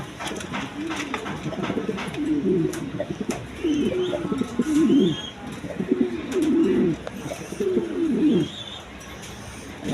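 Satin pigeons in a cage coo repeatedly in low, rolling bursts, close and fairly loud, with faint chirps and light rustling in the background and no speech.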